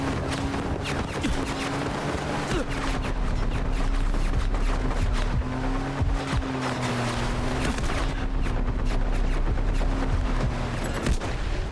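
An artillery barrage in a military video game gives a dense, continuous roll of rapid blasts and gunfire. A steady low engine-like drone runs beneath it for the whole stretch.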